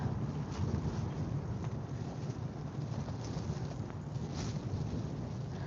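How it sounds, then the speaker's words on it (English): Outdoors, wind picks up and buffets the microphone in a steady broadband rush with gusty swells, fairly faint and continuous, with no talking. "It is a little windy, picking up."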